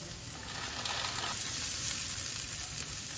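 Spices and kasuri methi fry in a pan for chicken dopiyaza, giving a loud, continuous close-up sizzle with faint scraping of stirring and no voices.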